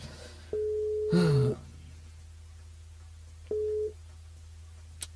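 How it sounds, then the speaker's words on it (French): Telephone line tones sound after dialing a radio station switchboard: a steady beep roughly a second long, then a second shorter beep a few seconds later, clear and close over a low hum, with a brief vocal sound during the first tone. "Le temps que je compose le numéro du standard par ici."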